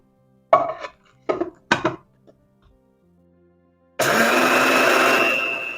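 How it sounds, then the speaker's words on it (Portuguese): A few short clattering knocks, then a loud, steady electric grinding whir of a grain grinder milling flaxseed starts and runs continuously, close up, easing slightly at the end. "vamos triturar aqui a linhaça. No caso aqui, eu tenho esse triturador de grãos"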